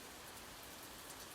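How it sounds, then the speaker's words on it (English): Rain falling outside, a dense, even patter of drops with no gaps or voices. "let the sound of the rain outside soothe you"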